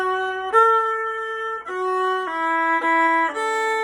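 Solo viola plays an orchestral first-ending passage with accented notes, a handful of loud, sustained bowed tones each attacked firmly, heard close and alone.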